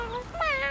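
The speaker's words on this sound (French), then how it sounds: "c'est un tout petit chat" A tiny cartoon kitten lets out a short, high meow with a rising, wavering pitch that is clear and close.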